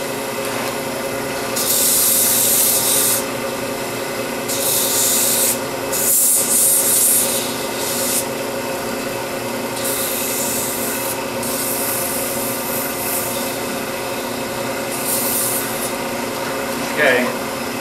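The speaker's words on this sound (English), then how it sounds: "I'm gonna sand it just a little bit." A turning wooden acorn ornament is sanded on a lathe. Several scratchy rubbing bursts of a second or two each sit over a steady motor hum, with short pauses between strokes.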